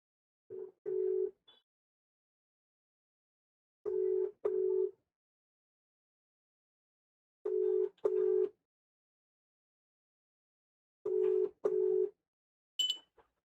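An unanswered outgoing phone call ringing: four evenly spaced double-pulse ringback tones about every three and a half seconds, followed by a brief higher beep. Quiet and steady, with no talking.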